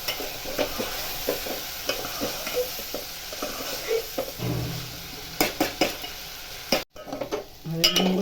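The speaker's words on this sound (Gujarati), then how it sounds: "એમાં ચણાનો લોટ એડ કરી દઈશું જેથી કરી તેલની અંદર શેકાઈ જાય" Gram flour roasting in hot oil for a bitter gourd curry, with a steady low sizzle and repeated scraping and clinking of a spoon stirring against the pan, close by and without speech.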